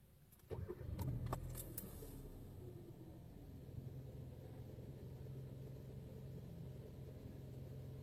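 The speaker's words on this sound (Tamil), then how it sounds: "இப்போ இந்த இன்ஜின் ஸ்டார்ட் பண்ணுவோம்." A car engine cranks and catches, then settles into a low, steady idle that carries on to the end, with a few clicks and light metallic jangles during the start.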